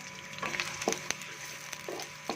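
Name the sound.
onions frying in oil until browned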